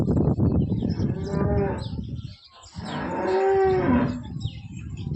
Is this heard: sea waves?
no